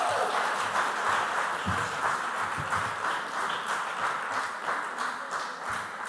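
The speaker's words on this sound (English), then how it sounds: "So that clap was for the winners." Applause from a school audience at a quarter-final quiz competition between basic schools, a steady wash of many hands clapping for the whole stretch with some crowd murmur beneath.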